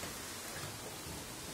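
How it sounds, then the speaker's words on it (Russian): Heavy rain from a thunderstorm downpour roars as a dense, steady hiss, close and unbroken for the whole short stretch. "Я такого дождя не видела 100 лет."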